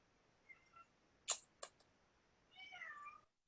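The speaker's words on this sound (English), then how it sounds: "Oh, that's a cat, not a dog." A cat meows faintly near the end, after a few quick sharp clicks and a soft earlier chirp in a quiet room.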